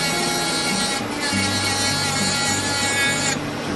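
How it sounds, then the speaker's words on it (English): A wooden chickadee carving has its edge sanded, producing a continuous, close rasping rub with brief pauses and shifts in pressure, and no voices. "And now I'll just sand the edge of this one"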